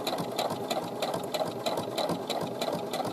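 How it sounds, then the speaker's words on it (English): A sewing machine stitches a hem at a quick, steady pace, its needle mechanism chattering in an even rhythmic whir, close and alone without talk. "So I'm going to stitch a little faster."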